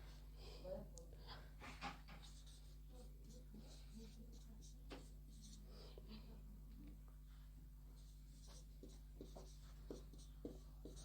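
Math equations being written on a board, chalk tapping and scratching in short irregular strokes, faint and close, with quiet breathing and soft speech now and then.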